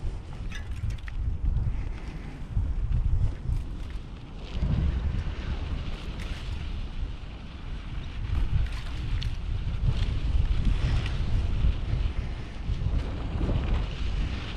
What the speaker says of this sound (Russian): откуда-то ветер начинается. Я ехал, тут не было ветра.